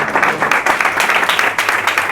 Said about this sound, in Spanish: Pido ese fortísimo aplauso de nuevo para ti y para Rosy